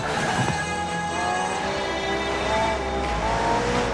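McLaren P1 GTR supercar with a twin-turbo V8 and electric motor accelerating hard in Forza Horizon 4, its loud, steady engine roar climbing through gears close-up with no talk.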